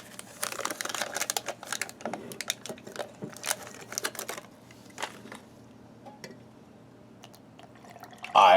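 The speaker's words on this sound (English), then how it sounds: "And we'll give this a stir." A spoon stirring an Indonesian emergency ration drink mix in a cup, a busy run of quick clinks and light scraping that thins out toward the end, close and soft with no talking.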